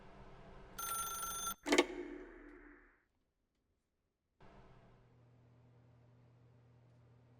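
An old-fashioned telephone bell rings loudly in two bursts, a long trill then a shorter clang, followed by silence and a faint low hum.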